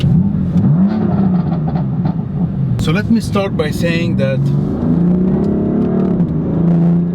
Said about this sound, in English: We're stopping in a traffic light, so what we're gonna do is just do some revs.